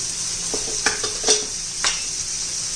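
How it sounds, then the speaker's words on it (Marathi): Cluster beans and peas sizzling with homemade onion-garlic masala and turmeric, a constant bright frying hiss with a few quick spatula scrapes stirring through the pan. "सर्व गवारी बरोबर परतून घेऊया"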